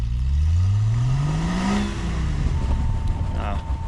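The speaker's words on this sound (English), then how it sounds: "Don't spin your tires. Can you try to reverse?" A car stuck in deep wet snow revs hard while trying to reverse, its engine rising and falling loudly up close as the tires spin, with a voice speaking over it.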